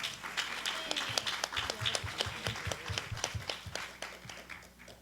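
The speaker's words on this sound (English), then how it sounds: "Let's thank them and applaud that they came." A seated audience at a League of Women Voters fall brunch gives a brief round of applause, steady clapping from many hands that fades out over a few seconds in a room.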